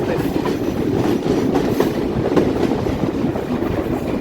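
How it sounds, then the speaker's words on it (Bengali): The 726 Sundarban Express train pulls into Darshana halt at Chuadanga with a steady, close rumble and rhythmic clattering wheels. No voices are heard. "এটাই হচ্ছে সেই চুয়াডাঙ্গার দর্শনা জংশন দর্শনা হলটে প্রবেশ করতে চলেছে সাতশো ছাব্বিশ সুন্দরবনে"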